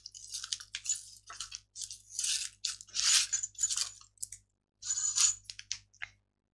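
A small bell on a handmade greeting card, finished with a red ribbon and bow, jingles close by. Bright metallic shakes come in repeated short bursts for about six seconds, with brief gaps and no talking.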